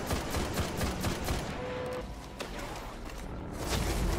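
Continuous rapid gunfire from a first-person shooter game, a dense fusillade of shots running steadily throughout at close, loud level with no talk.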